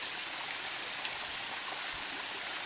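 Steady rush of water pouring from a small natural spring spout outdoors, a continuous broadband splashing that stays even and fairly close throughout with no voices.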